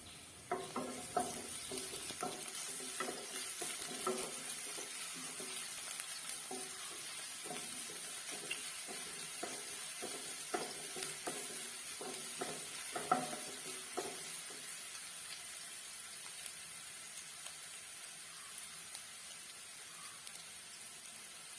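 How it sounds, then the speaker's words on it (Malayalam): Finely chopped shallots frying in hot coconut oil for an egg curry, a continuous sizzle with repeated clicking stirs and scrapes of a spoon in the pan, close and fairly soft. "വെളിച്ചെണ്ണ നന്നായിട്ട് ചൂടായി വരുമ്പോൾ അതിലേക്ക് ചെറിയ ഉള്ളി അരിഞ്ഞത് ചേർത്ത് കൊടുക്കാം ഇതൊന്ന് നന്നായിട്ട് മൂപ്പിച്ചെടുക്കാം"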